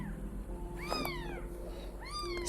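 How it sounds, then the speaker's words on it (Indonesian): A kitten under a table gives two clear, high meows, one about a second in and another near the end, with a faint steady hum underneath. "Sorry ya kalau suara anak kucing aku biasa"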